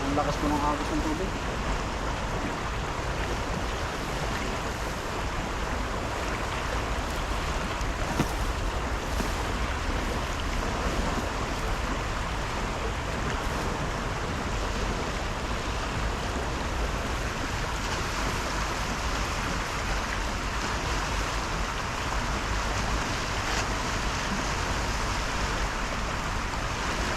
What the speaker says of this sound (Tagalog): Ang lakas po ng agos ng tubig.